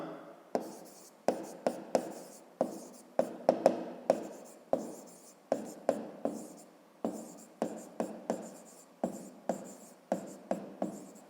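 Pen strokes on paper in a school maths exercise, a steady series of short scratchy bursts separated by brief pauses, close and fairly quiet, with no talking.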